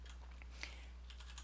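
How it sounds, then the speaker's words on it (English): Someone typing Chinese on a computer keyboard through an input system: soft, quick keystrokes tapping irregularly over a steady low electrical hum, recorded close and quietly. "let me show you some typing of Chinese"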